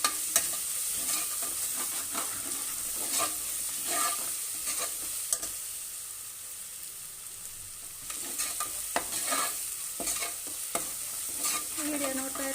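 Curry leaves sizzling in a tempering for dal khichdi, a steady hiss of frying oil punctuated by repeated spoon-stirring clinks and scrapes against the pan, no voices.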